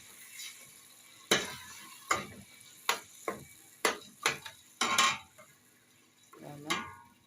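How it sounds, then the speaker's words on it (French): Crushed fresh tomato being stirred in a pot, heard as a series of about eight distinct scraping and clacking strokes of the spoon against the pot at an uneven pace, each stroke sharp and close. "Je vais mettre de la tomate fraîche écrasée. Je vais bien mélanger."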